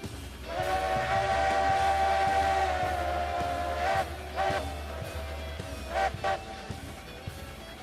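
A steam locomotive whistle in the train simulation game Railroads Online sounds loud and sustained for several seconds, then gives a few shorter blasts over a low rumbling engine.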